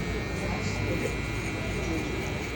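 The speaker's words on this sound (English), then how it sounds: "just balding out my client's facial hair with the trimmers" Electric hair trimmers buzz steadily and close up while shaving down a client's facial hair during a low-fade haircut, a continuous unbroken whir for the whole stretch.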